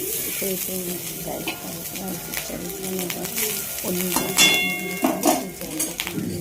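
Precooked rice frying in oil with capsicum and being lifted and turned with a ladle: a steady sizzle with scraping and clinks of the ladle against the pan, while pigeons coo nearby.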